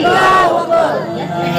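A crowd shouts a religious slogan in unison in response to a call at a Muharram gathering, a loud, short collective cry of many voices that fades into a brief murmur.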